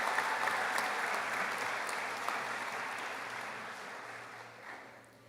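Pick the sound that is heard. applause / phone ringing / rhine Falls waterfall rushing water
applause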